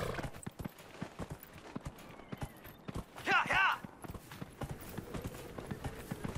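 Horse hooves clip-clopping at a steady quick rhythm while riding in the fantasy game Dragon Age Inquisition, with a brief whinny in the middle and someone talking over it.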